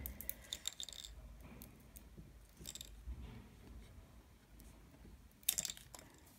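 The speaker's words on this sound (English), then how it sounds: "I'm just cutting them" Scissors snip plastic straws in short, sharp clicks that come in small bursts, close and fairly quiet, with gaps between the cuts.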